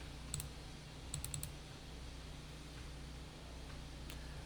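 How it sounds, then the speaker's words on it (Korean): Computer mouse buttons click in a few quick pairs, faint and close, over a steady low hum of room and fan noise with no talking. "자, 한번 더블 클릭 실행하세요."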